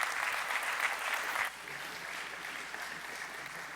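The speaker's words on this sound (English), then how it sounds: "would you give Doug a round of applause?" Church congregation applauding a man named Doug, a crowd's steady clapping that drops abruptly to a quieter, thinner patter halfway through, heard from a distance.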